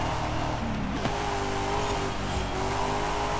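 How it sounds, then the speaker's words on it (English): Car engine in Forza Horizon 5, a steady droning motor note with shifting pitch as it accelerates, continuous and fairly loud, no talk. "this car sound sounds good"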